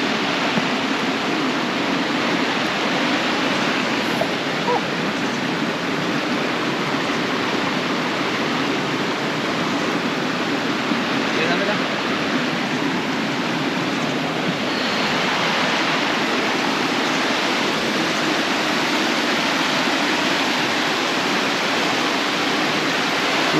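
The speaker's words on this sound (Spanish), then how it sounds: "Vamos por esa cuarta cascada." A waterfall in a rock canyon pours in a constant, loud, rushing roar of falling water, with no pauses and no voices.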